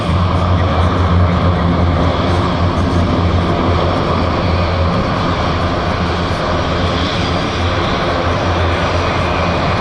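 Airbus A400M military transport aircraft with propeller engines running loud and steady at close range on the ground, a continuous droning roar while it taxis backward at a display.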